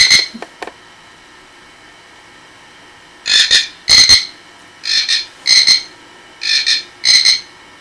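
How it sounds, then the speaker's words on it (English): A frog croaks in a quiet room: a couple of short clicks first, then six evenly spaced croaks, each a doubled high trill, close and clear. "It's my little frog."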